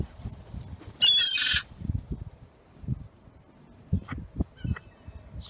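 A crow gives a loud harsh squawk over a second long, with faint bird calls later, while people talk quietly in Filipino throughout.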